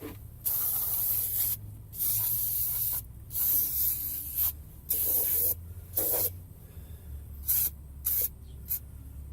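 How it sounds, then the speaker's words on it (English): Brake cleaner sprayed liberally onto a car's drum brake assembly during a parking brake rebuild: a series of loud, close hissing bursts of varying length separated by brief pauses. "I like to just give this a somewhat liberal, just quick clean with the brake cleaner."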